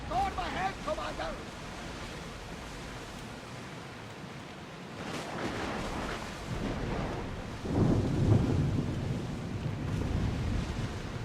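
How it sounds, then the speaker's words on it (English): Thunder rumbles through a storm at sea in the video game Assassin's Creed Odyssey, with rain and surf beneath; a long, rolling boom swells near the end while voices are heard early on. "Storm ahead"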